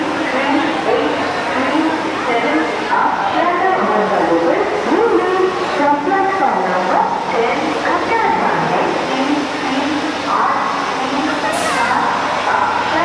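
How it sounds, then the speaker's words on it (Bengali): Ranaghat local train waiting at a Sealdah station platform, a steady near rumble of the train and station crowd with chatter and voices over it throughout. "এই হচ্ছে আমাদের রানাঘাট লোকাল, এটা ঠিক 3টার দিকে ছাড়বে।"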